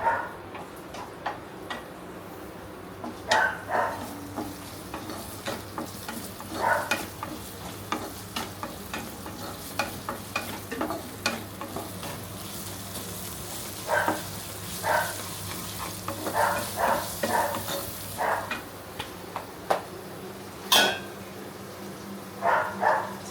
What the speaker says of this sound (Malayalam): ചെറിയ ഉള്ളി ഇട്ട് വെക്കാം. സോ ഇത് നല്ല വഴറ്റിയെടുക്കാം നമുക്ക്.